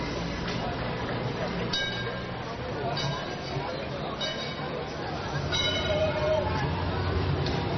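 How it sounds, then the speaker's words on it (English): An antique tram rolls along a main street in Istanbul, its rattling wheels and clanking carriage ringing out over street noise, with periodic metallic knocks and faint voices around it. "an antique tram still serves the main street"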